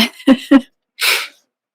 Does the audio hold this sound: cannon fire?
no